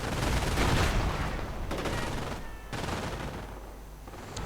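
Off-map artillery fire in a war video game with Sherman tanks comes as dense, loud rumbling barrages of blasts that roll on in overlapping bursts.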